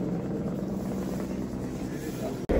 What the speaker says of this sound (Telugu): పక్కనే హెలికాప్టర్ వెళ్తా ఉంది.